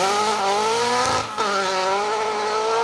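A Lada Riva rally car with a 2.4 litre Honda S2000 engine screams past at high revs on a forest stage, a loud sustained engine note that dips briefly as it shifts, then climbs again.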